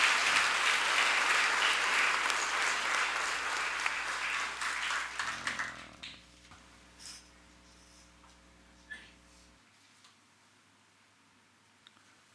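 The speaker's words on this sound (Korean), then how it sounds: "우리 하나님께 큰 박수 올려드립니다." Church congregation applauding together, a dense, loud wash of clapping for about six seconds that then quickly dies away to scattered faint claps and near quiet.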